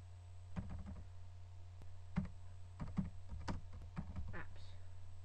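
Typing on the keypad of an LG Cookie KP500 phone, a few scattered soft clicks in short bursts over a low steady hum.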